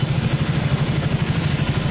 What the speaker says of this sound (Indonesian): kita nyalakan motornya